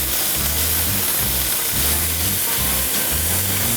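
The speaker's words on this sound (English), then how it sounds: "Now you wanna cook this sausage down until it gets brown." Andouille sausage for Cajun cabbage browns in a pot with a loud, dense, continuous sizzle and hiss, close up and unbroken, with a low pulsing rumble underneath.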